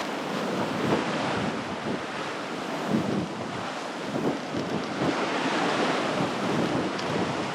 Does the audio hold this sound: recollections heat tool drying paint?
no